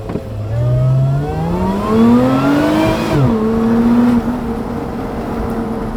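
A supercharged V6 Lotus Emira with automatic gearbox revs up hard and loud in one continuous launch-control start, the pitch climbing steadily through a gear change before settling into a steady drone.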